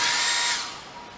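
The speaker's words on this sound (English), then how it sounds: "Plugged in my hair dryer here." A hair dryer's high-pitched motor whine starts loud and close, then quickly drops off and fades within about a second.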